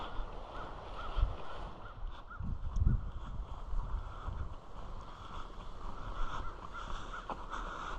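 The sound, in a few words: crows cawing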